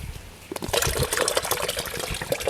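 Coconut water pours out of an opened coconut in a steady trickle and splash, starting after a brief pause and continuing close and clear to the end.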